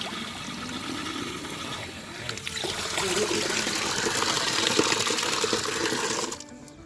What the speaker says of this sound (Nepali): अब टक्क धारा यहाँ टक्क यसरी खोल्ने